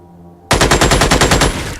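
Rapid automatic gunfire from the turn-based alien strategy game Xenonauts, a loud burst of about a dozen evenly spaced shots starting abruptly after a quiet moment.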